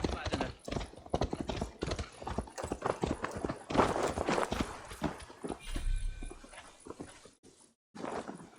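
Horse hooves clip-clop in the Viking-era video game Assassin's Creed Valhalla, a rapid run of close, percussive hoofbeats with voices and animal noises mixed in, easing near the end.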